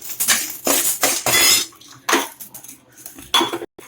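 Urad dal roasting in a pan for curry leaf powder, heard as several bursts of metallic scraping and clinking of a spoon against the pan, close and loud with short gaps.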